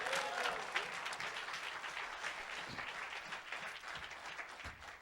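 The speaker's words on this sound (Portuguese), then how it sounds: "Que tal darmos um aplauso ao Senhor nesta hora?" A church congregation claps during a sermon, a fairly faint but continuous wash of applause across the whole moment, with a few heavier claps standing out.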